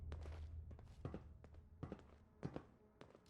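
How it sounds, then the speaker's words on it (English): Heavy footsteps behind a locked door in a video game land as irregular thuds and taps, fairly quiet and muffled, about a dozen impacts spread over a few seconds. "But I hear big fat footsteps on the other side."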